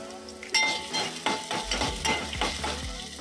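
Finely chopped onion, half of a medium onion, hitting a hot pan for dahi tadka and sizzling steadily while a spoon stirs and scrapes in rhythmic strokes.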